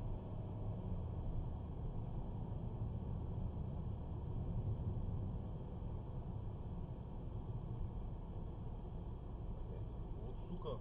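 A car chasing another vehicle through city streets, heard from inside as a steady low engine and road drone at moderate level, continuous and unchanging throughout.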